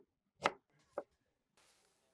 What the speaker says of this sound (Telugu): బీరకాయ చెక్కిన తొక్కని మనం తీసుకుని ముక్కలు ముక్కలుగా అట్లా కట్ చేసుకోవాలి